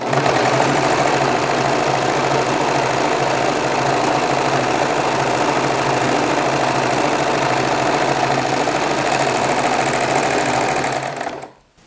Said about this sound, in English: I'm simply going to place a little fabric scrap underneath the presser foot and start serging